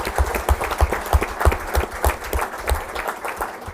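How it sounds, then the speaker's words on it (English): An audience at a school board meeting applauds the Rock Strong Award winners, close, loud clapping with a few strong hands beating out a clear rhythm over the general patter of the crowd. "let's give a round of applause for our Rock Strong Award winners"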